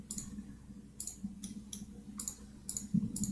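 Mouse clicks from choosing points with the polygon selection tool in Krita, a series of faint, sharp clicks spaced irregularly at close range over a low steady hum, with no talking.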